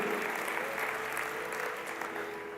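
A church congregation applauds during a Portuguese-language sermon, a dense, sustained clapping that fills the room evenly for a couple of seconds with a faint low hum beneath it.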